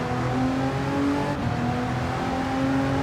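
Race car in the video game Gran Turismo 7 on an Italian circuit, its engine droning loudly and steadily with a held harmonic whine, briefly dipping mid-way before continuing to pull, close and without talk.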